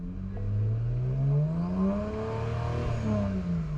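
A BMW N54 engine revs steadily above 2,500 RPM, with a smooth, moderately loud tone that rises and falls through the run.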